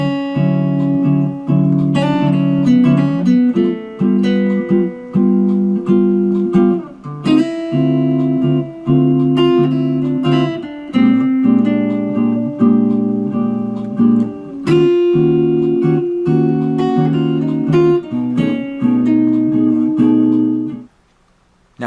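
A guitar plays the repeating single-riff bridge melody of a song, clear plucked notes in a steady rhythm, sounding close and alone with no talking.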